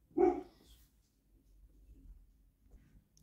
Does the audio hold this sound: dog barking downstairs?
yes